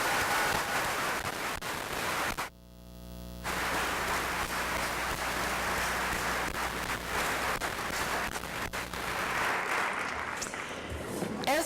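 A round of applause from a large audience at the 2003 Augsburg College commencement: dense, steady clapping that fills most of the stretch, with a brief lull about a quarter of the way in before it swells again.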